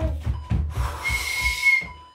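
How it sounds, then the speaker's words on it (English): A person whistles briefly over a rhythmic thumping beat during a PE workout session, the shrill tone rising and holding near the end. "could you not whistle just now"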